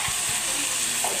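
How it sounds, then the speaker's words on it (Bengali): Spices with cumin powder frying in a pan, a dense, constant sizzle throughout with a couple of faint low knocks near the start. "দিয়ে আমি মশলাটা আরও ভালো করে কষে নেব।"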